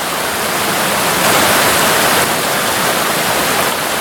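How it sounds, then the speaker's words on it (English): A small waterfall on a brook trout stream pours over a ledge in a steady, loud, broadband rush that holds without a break from start to finish. "you can see how that water's coming down over the top, forming like a little waterfall"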